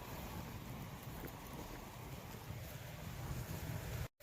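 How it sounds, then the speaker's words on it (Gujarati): Storm wind roars in steady, heavy gusts with a constant rushing wash like driving rain, loud and close with buffeting on the microphone, then cuts out abruptly near the end. "મિત્રો વાવાઝોડું આવવા મળ્યું છે, પવનની ધપટી આવે છે ફૂલે ફૂલ."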